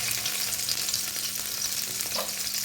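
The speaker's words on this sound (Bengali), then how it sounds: "পেঁয়াজটা হালকা ভাজা হয়ে গেছে" Chopped onion fries in oil, a dense, even sizzle that fills the whole stretch with faint stirring scrapes underneath and no voices.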